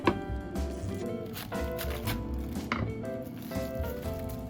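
A knife slices a cabbage set on end into rounds about 1.5 cm thick, giving a run of crisp, evenly spaced chops against a cutting board, close and clear with no talking.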